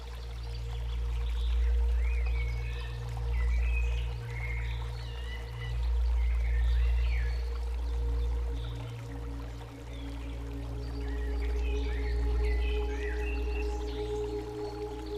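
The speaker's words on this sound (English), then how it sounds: "each window of the cave opens to a different angle of the falling torrent" A steady, full roar of water from a falling torrent at a waterfall with smaller cascades, heard continuously and close, with faint bird calls above it and no voices.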